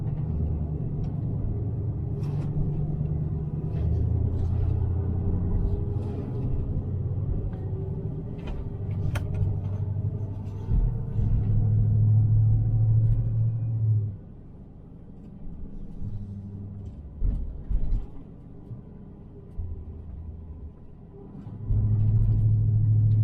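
Low, steady road rumble and engine drone from inside a car driving along a city street parallel to Ponce de Leon in Atlanta, continuous for the whole stretch, easing briefly midway before swelling again, with no talking.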